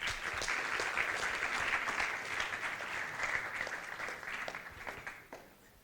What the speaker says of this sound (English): So an applause.